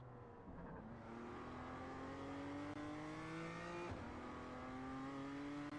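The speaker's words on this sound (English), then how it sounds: "it sounds like the engine's just bogging down." BMW M2 engine in the iRacing sim drops to a low strained drone, then its pitch climbs slowly and steadily as it pulls back up, loud and continuous with no talk.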